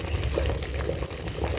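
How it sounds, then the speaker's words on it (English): Peeled bean stew simmering in a pot over a fire, giving a low continuous bubbling and crackling texture, faint and steady with no talk. "I think I'll add in a little more water to let it simmer properly"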